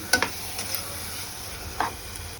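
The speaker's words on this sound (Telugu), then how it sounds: "మిక్స్ అయ్యాక దీంట్లో ఇందాక నానబెట్టుకున్న పచ్చెనగపప్పు వేసుకోవాలండి. వేసుకొని మళ్ళీ దీన్ని బాగా మిక్స్ చేసుకోవాలండి." Soaked chana dal is mixed with spices in a hot pan, giving a few quick scraping stir strokes over a low, steady sizzle.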